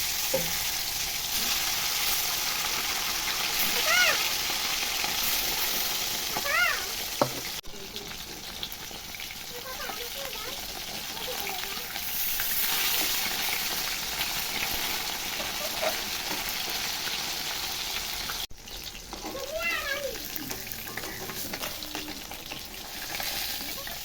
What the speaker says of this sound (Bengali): তেল গরম হয়ে গেছে, মাছ ছেড়ে দেবো।